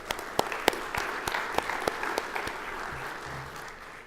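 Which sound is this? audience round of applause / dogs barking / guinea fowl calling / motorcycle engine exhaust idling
audience round of applause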